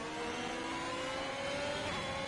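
A Formula 1 car's engine in the F1 2021 video game holds high revs in seventh gear on a wet Japanese circuit, a steady, fairly quiet droning whine with no talk.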